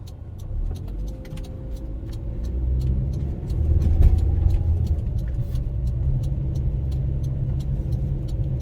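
A car climbs a snowy uphill road, its engine rumbling low and steady and swelling midway as it presses on, with faint ticking noises above the drone.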